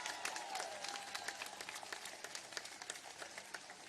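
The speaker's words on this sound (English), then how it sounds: "give yourselves a round of applause there" An outdoor crowd applauds at a celebration of the new Capitol Park monument honoring Northern California tribes, with sharp individual claps standing out over a continuous, moderately loud wave of clapping.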